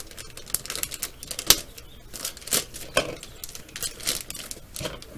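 A blade slices through a model kit box, producing a string of short, crisp scraping and crinkling bursts of cardboard and plastic wrap, irregularly spaced and close up.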